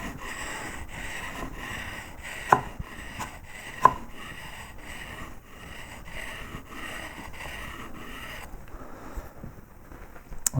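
A steel woodcarving gouge has its flat bevel worked toward the cutting edge on a sharpening surface, giving a steady, close scraping rub with two sharp clicks and softer strokes near the end.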